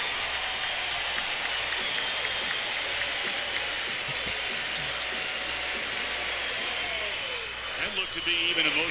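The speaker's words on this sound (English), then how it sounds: "here's actually sound from the standing ovation he got in his first at bat" A recorded stadium crowd gives a standing ovation at a baseball game, a sustained wash of applause and roar played back from start to finish, with some speech near the end.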